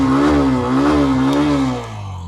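A Hero Xtreme 125R, a 125 cc motorcycle fitted with a sporty exhaust, revs loud and close with a steady buzzing engine tone that rises and dips slightly before easing off near the end.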